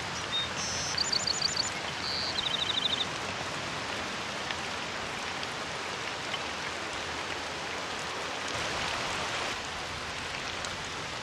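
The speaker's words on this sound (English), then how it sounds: "I love when there is rain and thunder" Steady rain falling in SCUM weather, a constant hiss of drops on surfaces, with a few bright bird chirps near the start; no clear thunder rumble stands out.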